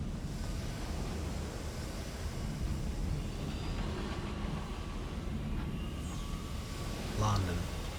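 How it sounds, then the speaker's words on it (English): Train noise in the Sunless Skies video game: a continuous low, wind-like rumble that holds steady throughout, with a brief heavier thump near the end. "Oh, train noise."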